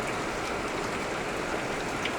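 Heavy rain pouring down in a dense, unbroken hiss of drops, loud and steady throughout with no voices.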